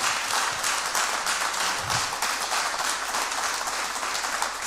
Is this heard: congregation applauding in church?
yes